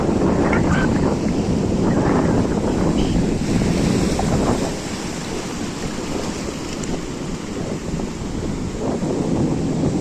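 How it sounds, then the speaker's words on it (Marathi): Loud surf rolls onto Varsoli beach at Alibag continuously, with a steady wash of high breaking waves and gusty wind buffeting the microphone throughout. "समुद्रात ह्या उंच उंच लाटा"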